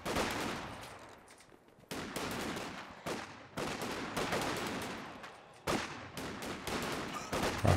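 Bursts of rifle and machine-gun fire crackle in a Company of Heroes 2 match, sharp volleys starting and stopping in clusters with brief gaps between them, fairly quiet overall and without talk.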